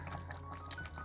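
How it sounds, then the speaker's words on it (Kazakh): Water poured into a pan of cooking kuyrdak, the Kazakh fried meat dish with potatoes, makes a brief, quiet splashing trickle that stays steady and soft. "Егер суы тарылып қалған болса, кішкене осындай көлемде су құямыз."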